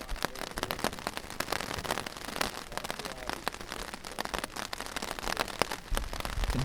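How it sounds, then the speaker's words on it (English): Steady rain pattering on a taut Cuben fiber tarp overhead on a hiking trail in the Laurel Highlands, a dense rapid drumming of drops with sharper individual taps scattered throughout, close and continuous. "You can hear that rain on this Cuban tarp."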